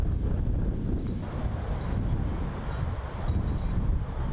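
Strong gusty wind buffets across an open disc golf course in Melbourne, a steady low roaring rush with wind noise on the microphone and no voices.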